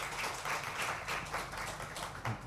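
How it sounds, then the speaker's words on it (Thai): An audience in a lecture hall applauds to welcome a professor of medicine, a steady wash of many hands clapping at moderate volume, fairly close, without voices over it. "ผมขออนุญาตเสียงปรบมือต้อนรับนะครับศาสตราจารย์นายแพทย์วรศักดิ์ชดเลิศศักดิ์ครับ"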